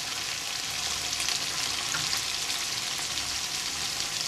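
Mutton and liver frying lightly in a pan after salt is added, giving a steady, close, loud sizzle that holds unbroken throughout with no talking.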